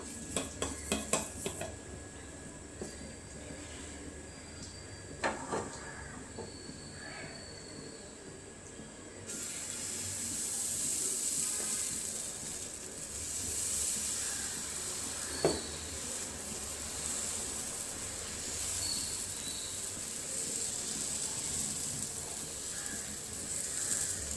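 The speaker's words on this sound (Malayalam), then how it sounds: "ചട്ടി ചൂടായിട്ടുണ്ടേ നമുക്ക് മാവ് ഒഴിച്ചു കൊടുക്കാം" Dosa batter poured onto a small hot pan, preceded by clinks of utensils and dishes, then a steady soft hiss of sizzling batter that continues at a moderate level with occasional clatter, no talk.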